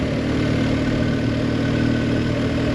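A BMW R1250 GS Trophy 2023 motorcycle engine idles steadily at close range, a continuous low throb with no speech over it.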